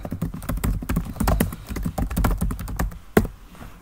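Computer keyboard keys tapped in quick, irregular bursts while entering an email address and password, close and clear with no talking.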